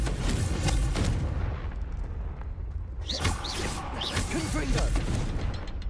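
Spell blasts from the Confringo fire curse in the PS5 game Hogwarts Legacy, several booming bursts with sharp whooshes over dense rumbling combat noise, loud and near throughout.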